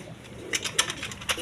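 Domestic pigeons, a male and female pair not yet bonded, give a few soft coos close by in a loft, short rounded calls repeating irregularly over a low background murmur.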